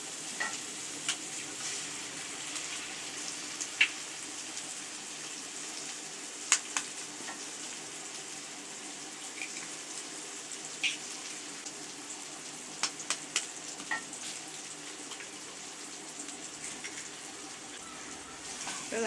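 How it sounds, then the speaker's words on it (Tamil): Three eggs go into a pan with vermicelli for egg sevai, frying with a quiet, continuous sizzle and scattered small clicks and taps of cracking and stirring, close and fairly soft. "இப்போ நான் 3 முட்டையை இதில் உடச்சி சேர்க்க போகிறேன்."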